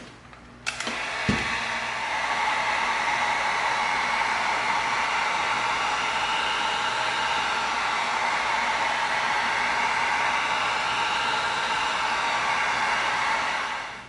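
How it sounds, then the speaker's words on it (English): A heat gun blows a loud, steady whooshing roar while heat sealing EVA foam, after a couple of brief clicks at the start; it runs continuously for over ten seconds with no talking. "I just love heat sealing. Look what it does. It tightens up the foam."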